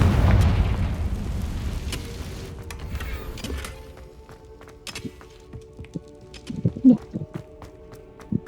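A Confringo fire spell exploding in the Hogwarts Legacy video game, with a loud booming blast at the start that fades into a rumbling tail, followed by scattered smaller pops and crackles.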